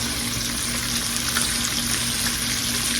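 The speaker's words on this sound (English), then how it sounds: "I'm just going to put it all in here with my carrots and my salt pork." Neck bones go into a pot with carrots and salt pork, and a steady sizzling, bubbling hiss follows, loud and unbroken with no voices.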